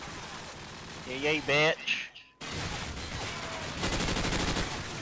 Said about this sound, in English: It's like everyone shooting at once.